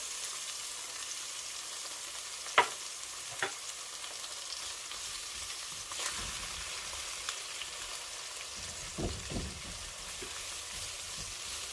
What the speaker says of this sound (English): You want to add your minced garlic to the pan.